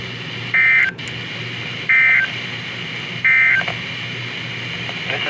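NOAA weather radio alert tones from a WR120 receiver during a storm warning: three loud, steady two-tone beeps about a second apart, each lasting under half a second, over a constant hiss.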